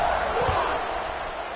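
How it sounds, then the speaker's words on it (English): A football stadium crowd in a video game buzzes with a broad, steady murmur of cheering noise, loud and even throughout with no clear voices on top. "this crowd is buzzing after that last score"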